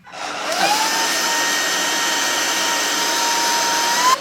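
A stick vacuum cleaner switches on and rises to a steady, loud motor whine with a faint high tone, running alone without talk until it cuts near the end.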